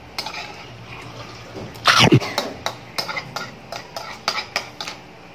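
A single short cough in a home kitchen during a stir-fried ground pork cooking session, rising over quiet clinking of cutlery and dishes that continues around it.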